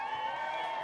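A crowd at a campdraft event cheers in a continuous, sustained roar, fairly faint and distant, with no distinct claps standing out.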